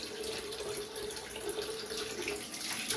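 A tap runs steadily into a sink as water is used to rinse a freshly shaved head, a soft, even rushing that holds for the whole stretch with no voices.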